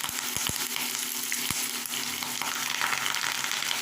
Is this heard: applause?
no